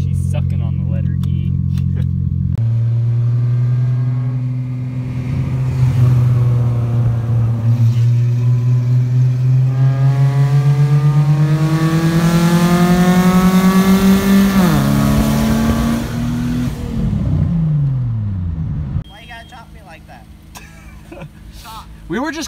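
A Volkswagen car engine drones steadily while driving and cruising in third gear, its pitch rising slowly before easing off near the end, loud and close with people talking inside the car.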